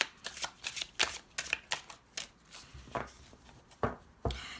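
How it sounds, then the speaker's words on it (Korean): Tarot cards are shuffled and drawn close up, a series of quick papery riffles and soft slaps in an irregular rhythm, without talking. "제가 행운의 카드, 팁 카드, 조언의 카드 한 번 더 뽑아 볼게요"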